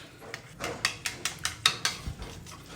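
A spoon stirs curd into a bitter gourd curry in a pan, making a rhythmic series of sharp metallic clinks and scrapes against the pan, close and distinct.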